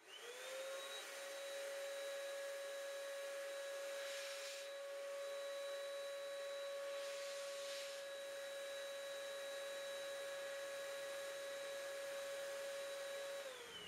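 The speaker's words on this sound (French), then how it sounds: "Maintenant, simplement avec de l'eau dedans, je refais marcher" A paint spray gun's turbine runs steadily with only water in its cup, giving a loud, continuous whine with a sustained high tone that holds for the whole stretch before spinning down at the end.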